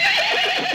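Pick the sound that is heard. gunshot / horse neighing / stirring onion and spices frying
horse neighing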